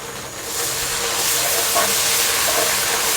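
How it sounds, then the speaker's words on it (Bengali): Ginger and garlic paste fries in hot oil with lightly browned onions for tehari, making a steady, loud, close sizzling hiss that runs without a break and has no talking over it. "আদা এবং রসুন বাটাটাকে একটু ভেজে নিতে হবে"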